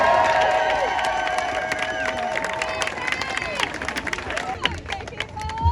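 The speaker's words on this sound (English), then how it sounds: "Big round of applause to you." A crowd at an outdoor protest applauds and cheers, with clapping and scattered whoops blended into a busy, loud wash of voices and noise that carries on steadily.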